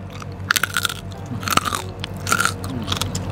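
Crispy fried pork is bitten and chewed up close, giving several sharp, loud crunches in bursts with brief pauses between bites and no talking.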